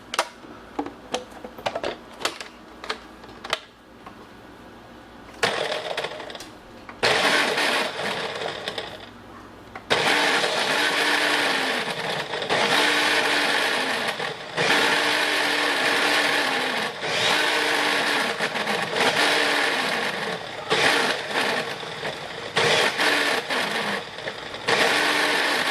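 A Ninja blender pulsing bread into breadcrumbs: loud whirring bursts of uneven length, starting with short choppy pulses and then longer sustained blending runs separated by brief pauses, close and with no talking.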